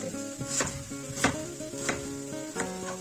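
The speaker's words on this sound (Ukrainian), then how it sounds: "Тепер нарізаю цибулю напівкільцями." A knife slices an onion into half-rings on a wooden cutting board, sharp knocks every half second or so, close by with a faint hum behind.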